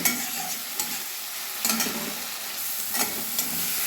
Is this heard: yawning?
no